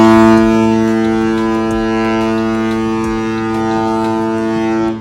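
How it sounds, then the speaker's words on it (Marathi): A cruise ship horn signals departure, loud and sustained, blaring steadily, its deep tones holding throughout with faint background clatter. "हा जो भोंगा तुम्ही ऐकलात तर याचा अर्थ आमची क्रूज आता इथून निघालेली आहे"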